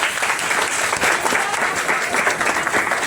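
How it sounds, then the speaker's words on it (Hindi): Audience applause for Amita Rani at a live product demonstration of a Dew Garden fly napkin, a steady, dense clapping from a room crowd sustained throughout, loud and close, with no voices over it. "अमिता रानी जी के लिए एक जोरदार हाथ ताली।"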